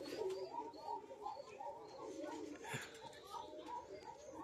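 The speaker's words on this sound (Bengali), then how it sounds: "এই তো কবুতরগুলো ছাড়ছি।" Young pigeons at a Rajshahi loft coo softly in a low, repeated rhythm, faint and close, while the birds are set loose. A person talks quietly in the background.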